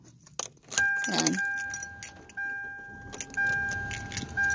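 A car key turns in a repaired ignition and the engine starts with a short crank before settling into a steady idle; keys jangle near the start, the start is fairly close, and a brief word is spoken.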